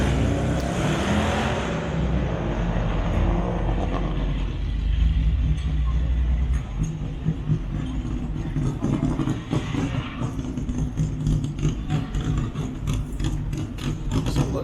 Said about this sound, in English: So, got a truck rolling in here.